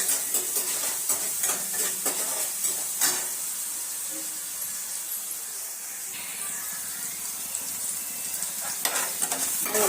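Food fries in a pan with a little sugar added, giving a loud, continuous sizzle and hiss, broken by sharp stirring scrapes and spatters near the start and end, with no talking.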